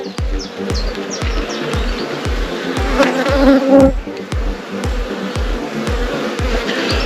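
Honey bees buzz steadily and close by while a new colony's hive is opened for inspection, a dense insect drone with a brief louder swell midway and repeated low thumps throughout.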